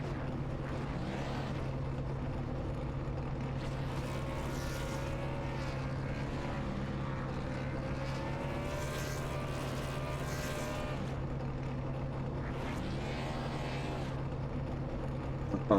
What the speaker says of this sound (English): doing the burnouts here at Daytona